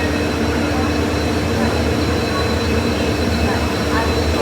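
Train at Jaipur railway station: a loud, steady rumble of rolling railcars with faint squeals and clatter, continuous throughout, with a voice faintly in the background.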